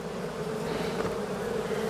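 Steady, dense buzzing of many honey bees close by in a hive, continuous with no pauses and no voices.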